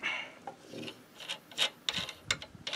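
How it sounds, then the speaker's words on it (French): Intermittent scraping and rasping from a part rubbing against an engine's low-tension ignition coil, a series of uneven gritty strokes, close and fairly quiet, with no voices. "À mon avis, il y a des grandes chances que ça frotte."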